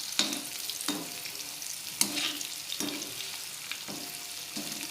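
Bitter gourd pieces sizzle in a pan over low heat, a steady soft frying hiss broken by rhythmic scraping stirs roughly every second.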